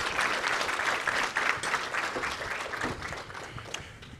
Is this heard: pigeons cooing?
no